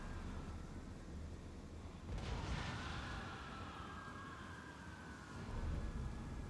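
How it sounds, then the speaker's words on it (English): A rocket fires in Total War: Warhammer 2 during a dwarf-versus-Empire battle, a sudden whooshing blast followed by a fading rushing streak over rumbling battle noise. "There goes my rocket."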